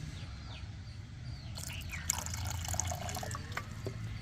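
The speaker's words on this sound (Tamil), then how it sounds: "இதை சும்மா ஒரு 2 மூடி அளவுக்கு அந்த தண்ணிக்குள்ளார நான் ஆட் பண்ணுறேன்." About two capfuls of hydrogen peroxide trickle into a container of water for a strawberry plant, a faint, close, light pouring and dripping that starts partway through.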